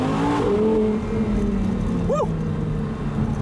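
A 2015 Audi R8 V10 Spyder engine roars up loudly, then its pitch drops as it downshifts, with a brief blip near the end; a man whoops briefly over the engine.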